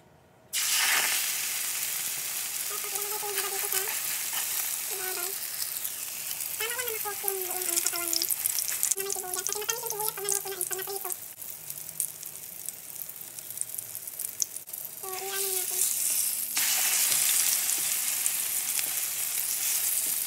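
A tortang talong (eggplant omelette) with onion fries in a pan, making a continuous close sizzle that carries on under intermittent talking.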